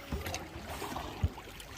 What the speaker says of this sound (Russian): мы плывем тут на лодке